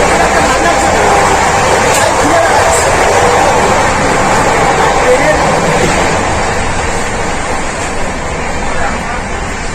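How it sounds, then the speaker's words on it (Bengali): Steady, loud rumble and rattle fill the cabin of a moving passenger train travelling from Kolkata to Deoghar, a constant broadband roar with no pauses throughout. "আর ট্রেনের এত নয়েজ"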